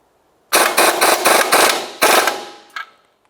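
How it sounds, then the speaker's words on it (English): Wrench work on a 24mm nut of a 1994-2002 Dodge Ram 2500 while installing a leveling kit: a series of loud, close, rapid ratcheting bursts, a short pause, then another burst and a faint final clack. "Now we'll tighten our 24mm nut."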